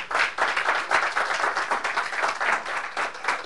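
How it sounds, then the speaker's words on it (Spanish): A church congregation applauding together, a dense, steady burst of many hands clapping at once that holds evenly throughout, close and fairly loud, with no voices rising above it. "Dale un aplauso al Señor."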